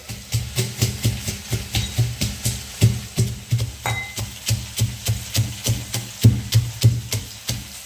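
Peanuts pounded into a coarse powder, a steady rhythm of dull thuds, about three per second, close and moderately loud, with faint scraping between the blows.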